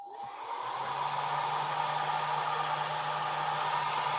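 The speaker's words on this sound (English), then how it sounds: "let's blow dry this" A hair dryer blows steadily on fresh clear coat, starting up and holding a constant loud whooshing roar with a low hum underneath, close by and uninterrupted.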